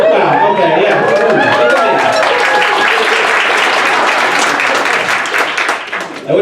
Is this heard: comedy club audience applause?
yes